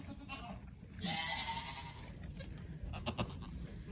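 A newborn male goat kid bleats in one loud, drawn-out cry near the start, followed by fainter shuffling and softer sounds in a quiet barn during kidding.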